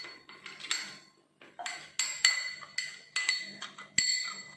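A spoon clinks and scrapes against a bowl while stirring a carrot juice face pack, a brisk run of bright, close metallic taps and chimes, alone.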